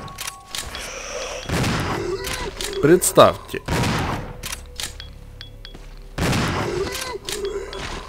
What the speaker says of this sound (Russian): Вот, сука, про это я говорил, у меня остался один выстрел.